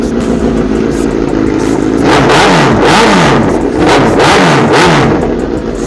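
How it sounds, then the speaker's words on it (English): A 2006 Suzuki GSX-R 1000 sportbike with a GP-style exhaust revs up loud and close, its note climbing and falling in several sharp blips over a steady idle, with no talking. "Man, that bike sounds good."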